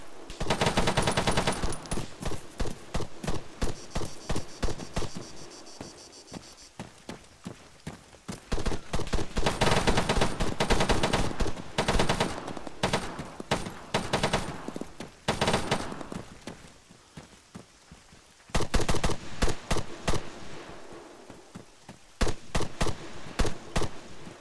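Gunfire in the military shooter Arma 3, with rapid automatic bursts and single shots crackling in irregular clusters, some loud and near, others fainter. The exchanges rise and fall over about twenty-five seconds with short pauses between volleys.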